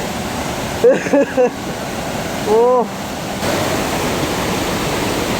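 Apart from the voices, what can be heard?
waterfall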